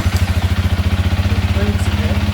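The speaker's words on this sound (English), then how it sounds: "Then you start the bike." Honda CRF300L motorcycle engine idling just after starting, a close, rapid even thumping pulse throughout the short clip.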